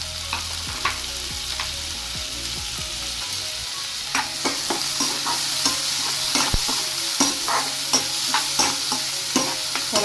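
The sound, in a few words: tomatoes frying in oil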